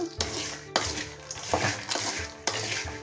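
Groundnuts being stirred in a pan over a high flame, with repeated scraping and rattling strokes and a soft sizzle underneath, close and fairly loud, with no talk.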